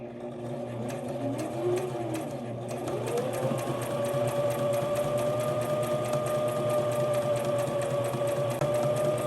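A sewing machine runs steadily through fabric for the whole stretch, its close, continuous motor whir and rapid needle chatter holding an even rhythm with no talking.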